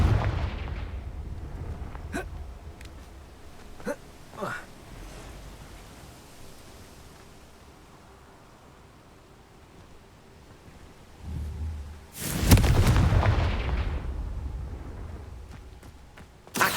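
Blasting-spell explosions in Hogwarts Legacy on PS5: a few sharp cracks early on, then a quiet lull, then a heavy booming blast near the end that rumbles away.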